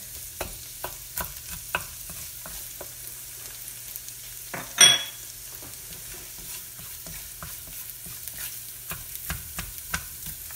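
Minced garlic and onion frying in a pan for pad thai, a quiet sizzle broken by sharp taps and scrapes of a spatula, with one louder clatter midway; no speech.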